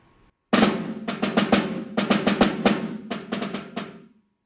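A snare drum excerpt from a junior high percussion audition, played solo as clusters of crisp triplet strokes with crescendos, close and loud, with no voices.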